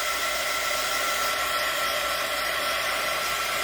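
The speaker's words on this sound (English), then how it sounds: "I rarely will use a dryer while I'm doing this, but for the interest of time," A hair dryer blowing on a painting, a steady, loud, unbroken whoosh of airflow held close for the whole stretch with no talking.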